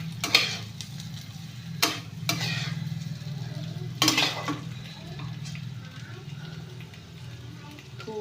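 Fenugreek greens being stirred and fried in oil in a pan, a steady low sizzle running throughout with a few sharp spatula scrapes and clinks against the pan.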